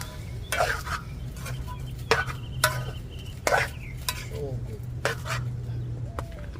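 A spoon stirs ackee and saltfish in a pot, scraping and knocking against the pot in scattered strokes over a steady low sizzle, with a voice speaking at moments.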